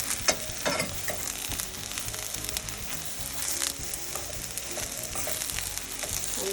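Eggplant slices frying in a pan, a close, steady crackling sizzle with scattered pops and light stirring scrapes, no voices.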